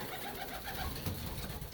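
Soft pigeon cooing from roller and tippler pigeons, a low steady murmur running throughout at a moderate distance, with no voices.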